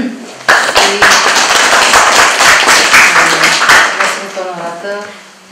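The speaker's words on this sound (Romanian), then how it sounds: "Da, să aplaudăm." Audience applause for prize winners at a school drawing contest award ceremony, a dense burst of many hands clapping that starts abruptly, holds steady and then fades out over several seconds.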